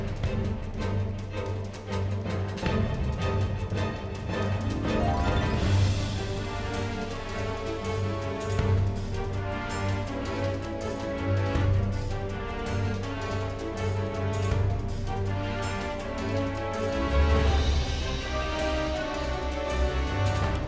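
A theme from the video game Final Fantasy XIV, a dense, epic orchestral piece with heavy bass pulses and layered melody, playing continuously and fairly quietly without talk.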